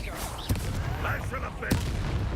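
Explosive spells going off in the video game Hogwarts Legacy, with sharp booming blasts at two moments over a dense, busy game soundscape, and voices calling out amid the effects.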